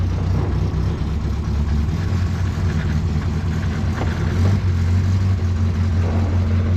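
A Morris car engine starts and settles into a steady idle inside a garage, a constant low rumble that stays loud and close the whole time with no talking.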